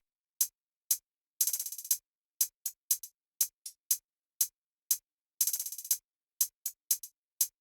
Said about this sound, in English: On top of that, I have this hi-hat pattern that I came up with,